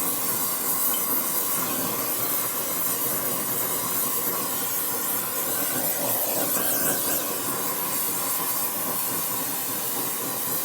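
Steady, loud roaring hiss of a torch flame heating a Buell Blast 650cc single-cylinder motor case, continuous and close with no pauses or talk.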